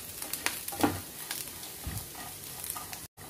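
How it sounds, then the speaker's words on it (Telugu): Green chillies, coconut and tamarind frying together in a pan: quiet sizzling with intermittent scraping stirs and short clatters, all fairly soft. "ఈ పచ్చి మిరపకాయలు కొబ్బరి ఇవన్నీ వేయించుకున్నాం కదా, వాటితో పాటు చింతపండుని కూడా కలుపుకుంటూ వేయించేసుకోవాలి"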